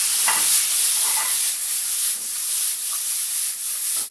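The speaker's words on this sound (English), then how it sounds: "The tuna fish has been marinated for 10 minutes, and I'm ready to start sauteing" Marinated fresh tuna sautéing in a smoking-hot pan gives a continuous bright sizzle, close and fairly loud, broken by a few soft scrapes and taps as the pieces are moved around.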